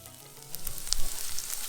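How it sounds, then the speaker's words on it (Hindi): Onions with curry leaves frying over a low gas flame for a Nimadi-style dal dhokla, a close, soft sizzle with small crackles and pops. "अब हम इसमें प्याज डाल देंगे। प्याज को भूनने में थोड़ा समय लगेगा।"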